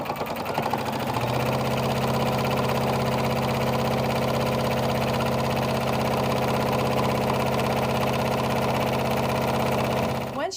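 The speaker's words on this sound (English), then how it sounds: "it's time to step to your machine and sew" A sewing machine stitches a long seam along a fabric strap for a satchel, a steady, close mechanical whir with rapid needle pulses running unbroken for about nine seconds before stopping, with no talk over it.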